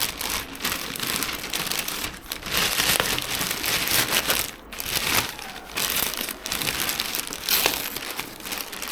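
Cardboard and plastic packaging for Ray-Ban Meta smart glasses crinkles and crumples steadily as it is unboxed with a makeshift tool and tugged at stuck tape, a dense, close rustling with brief pauses and no talking.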